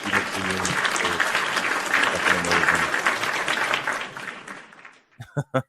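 A live show crowd applauds loudly in a dense, sustained burst that fades out after about four seconds, followed by a few separate claps.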